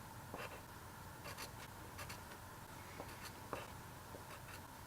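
A pencil scratches on graph paper while points are plotted, making faint, intermittent short strokes and taps against a quiet hissy background, with no talk.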